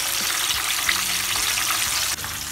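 Cassava pieces fry in hot oil with a steady, close crackling sizzle throughout, and there is no talk.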